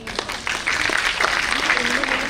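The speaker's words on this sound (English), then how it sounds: "Let us give them a huge round of applause for performing with such grace and eloquence." After a stage performance at a literature and arts event, a crowd breaks into applause that builds into a steady wash of clapping. Voices carry over and through it.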